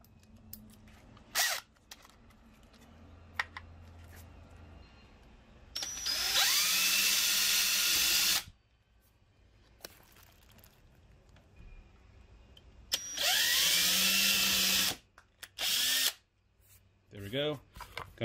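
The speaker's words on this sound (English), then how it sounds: "So we'll start off with the pilot holes, just traditional drilling on some of the smaller drills" A power drill bores pilot holes through a jetski dash plate set on a wooden backing block, with two loud whining bursts of drilling separated by quieter handling noise, clicks and light tapping.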